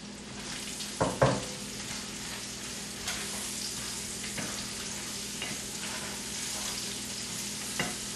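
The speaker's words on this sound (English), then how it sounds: "this is 4 ounces of fresh mushrooms that I've sliced. I get those in there and get those cooking" Sliced fresh mushrooms frying with bacon in a pan, giving a steady, close sizzle. A few scraping stirs stand out, the loudest near the start, and no one speaks.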